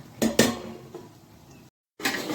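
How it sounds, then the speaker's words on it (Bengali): A metal plate set down as a lid on a cooking pot for chicken chap biryani gives two sharp close metallic clinks with a softer clatter, then a brief silence before kitchen noise resumes. "এবারে এটা আমি ঢেকে দেব। এই থালাটাই দিয়ে দিলাম এখন।"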